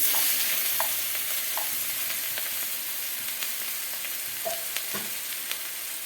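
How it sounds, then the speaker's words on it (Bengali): Onion frying in hot oil with whole cumin seeds and bay leaf gives a steady, quiet sizzle, broken by a few light clicks and scrapes of stirring, with no talking. "পেঁয়াজটা আমাদের ভাজা ভাজা হয়ে গেছে"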